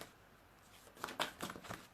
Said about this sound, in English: So I'm going to just shuffle a card